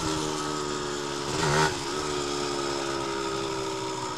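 A motorcycle engine fitted with a stock exhaust idles steadily with a mid-pitched drone, rising in a brief, sharper rev blip near the middle before settling back to an even hum; no voices.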